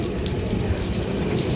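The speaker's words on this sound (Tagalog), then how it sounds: "ang lakas ng ulan" Heavy rain heard from inside a shop, a steady dense hiss and patter that runs unbroken and loud throughout, with no voices over it.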